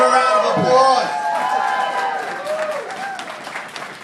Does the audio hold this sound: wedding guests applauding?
yes